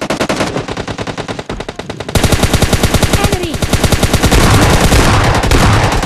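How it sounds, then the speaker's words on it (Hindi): Gunfire in the PUBG Mobile Lite video game: loud, rapid, repeated shots in dense bursts that carry on without pause, with no talking. "ये शॉटगन मेरे को एकदम पसंद नहीं है"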